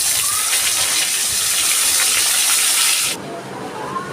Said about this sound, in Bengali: এবার এই তেলের মধ্যে আমি এই যে কিছু আলু দিলাম।